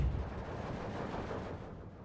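Machine gun fire from the World War II strategy game Steel Division 2, a dense, continuous rattle of rapid bursts that fills the whole short stretch, loud and steady before fading slightly at the end, with no voices.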